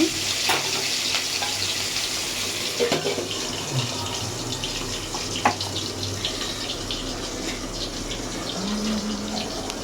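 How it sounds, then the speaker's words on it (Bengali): Quartered potatoes fry in hot oil with a continuous close hiss, dotted with occasional sharp pops and crackles. "আলুগুলো ভেজে নেব এই যে একটা আলু চার টুকরো করে নিয়েছি"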